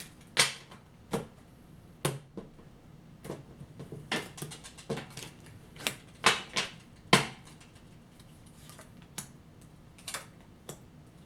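Tarot cards being shuffled by hand in a quiet room, a run of crisp snaps and riffles scattered unevenly through the stretch, close and fairly soft, with no talking.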